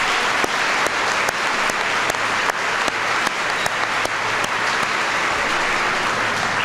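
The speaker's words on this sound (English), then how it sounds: "Please give your parents here a huge round of applause for their support." High school gymnasium audience giving parents a huge round of applause: loud, sustained clapping from a large crowd, steady throughout with occasional sharper individual claps standing out.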